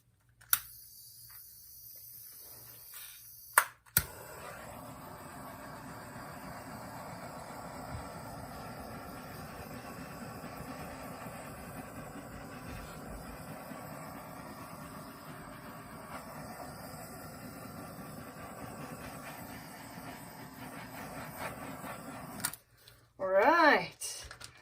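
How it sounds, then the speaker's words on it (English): A torch flame roars steadily as it plays over fresh acrylic pour paint on a vinyl record base, a continuous close hiss that runs for about twenty seconds after a couple of sharp clicks, then cuts off before a brief voice. "All right, let's torch it, see what happens."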